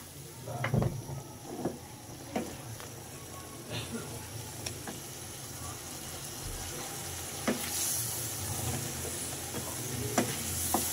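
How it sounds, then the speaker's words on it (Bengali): Spice paste fries with added water in a pan for a Bengali deshi chicken and chapila fish dish, giving a low steady sizzle broken by scraping stirs and occasional louder clanks of the spoon. "জল দিয়ে সুন্দর করে মশলাটাকে ভুনা করে নিব।"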